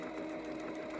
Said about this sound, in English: I sew it once, like this, and I take and sew it one more time on the same